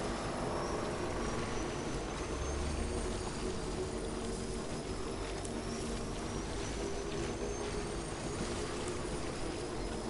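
A large motorbike engine in Death Stranding hums steadily and faintly throughout, a continuous low drone with no talking over it.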